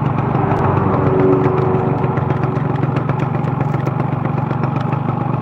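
A Volkswagen engine with a leaking oil pump runs steadily at idle, a loud close mechanical drone threaded with a fast rattling clatter throughout.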